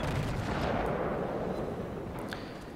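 Naval gun salvos from a warship in World of Warships, a dense, heavy boom filling the whole stretch with a rumbling roar that slowly fades, loud and close with no talk.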